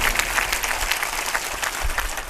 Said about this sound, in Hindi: ताली बजा के अभिनंदन कर